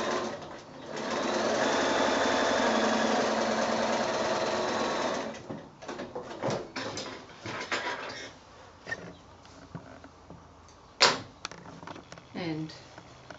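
Sewing machine stitching a quarter inch seam on a small quilted bag, a steady close whirring run for several seconds, then stopping, followed by handling noises and someone speaking.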